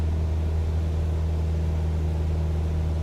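A Cessna C172 piston engine in Microsoft Flight Simulator 2020, droning steadily with a low humming tone and airy wash, unchanging and continuous throughout with no talking.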